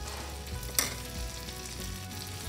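Whole spices roasting in a pan, with cloves, coriander seeds, fennel seeds, almonds and dried chili. A soft, steady crackling sizzle with one sharp scrape or clink partway through.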